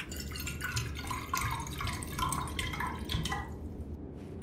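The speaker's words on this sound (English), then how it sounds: "Now I can fill it with some water." Tap water runs into a container for making tea in a video game, a steady splashing, trickling stream with bright drip-like spatter, continuous and fairly close, fading slightly at the end.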